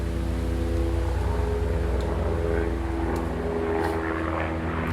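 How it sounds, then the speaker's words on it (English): Helicopters drone overhead in a steady, fairly loud engine hum that holds unbroken from start to finish. "Helicopters overhead for no readily apparent reason."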